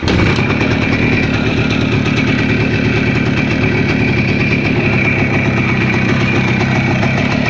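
A cold motor engine idling in the morning: a steady, loud, close rumble with an even mechanical chug and no change in pace throughout, no voices.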